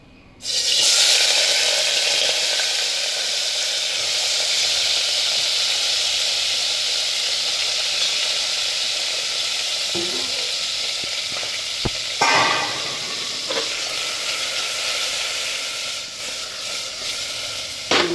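Asafoetida and drumstick pieces sizzle in hot oil for Gujarati drumstick curry, a steady loud hiss filling the whole stretch, with a few clinks and stirring knocks partway through.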